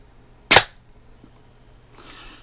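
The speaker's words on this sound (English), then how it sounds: "So let's go ahead and charge this thing. Close the bolt. And we'll take a shot at our first elf there on the left." A single sharp crack from a Daisy 853 scoped air rifle firing at a target, loud and close, followed by quiet room tone and a faint later rustle.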